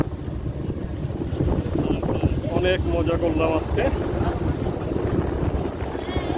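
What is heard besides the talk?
boat ride on water with wind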